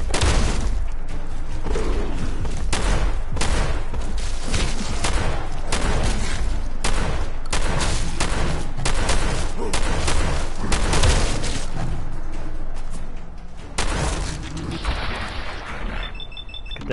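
Sustained gunfire in Fallout 4's Nuka World, a dense run of loud shots and impacts that fills most of the stretch before thinning out near the end, with no talking heard.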